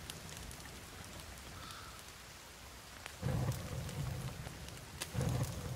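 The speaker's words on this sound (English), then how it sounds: "Freezing rain." Freezing rain in the survival video game The Forest: a steady hiss of rainfall with low rumbling thunder swelling twice in the second half, and no voices.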